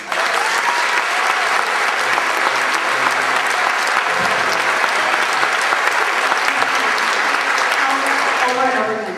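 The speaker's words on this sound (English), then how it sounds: "I really need to hear a special round of applause, please" Loud, sustained applause from a large audience at a tribute event for a retired band director, steady clapping filling the room for several seconds before tapering at the end.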